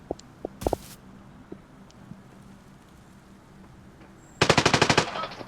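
Rapid automatic gunfire in the video game Arena Breakout: a few scattered single shots early, then a loud sustained burst of evenly spaced rounds near the end, heard alone without talk.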